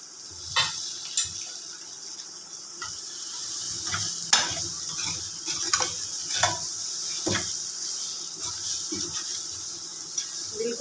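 Soaked lentil vadiyan (wadi) frying and being stirred in a pan for a boiled potato curry: a steady sizzle with repeated scraping stir strokes and occasional clinks, close and continuous, no talk.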